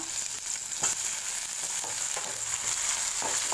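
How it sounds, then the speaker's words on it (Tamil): Onion and tomato sautéing in a pan for a broad beans masala, a steady close sizzle with occasional stirring scrapes throughout and no voices. "தக்காளியும் நல்லா வதங்கணும் நல்லா கொலைவாக வதங்கணும்"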